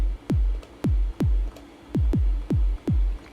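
Synthesized hall kick drum from Icarus 3 with a pop transient, struck about seven times in an uneven pattern, each hit a deep, booming thump with a sharp click and a quickly falling pitch, heard alone.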